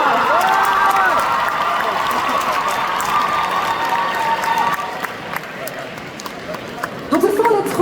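A convention audience at Art to Play 2025 applauding as three jury members climb onto the stage, with sustained crowd clapping and cheering throughout and a voice talking over it.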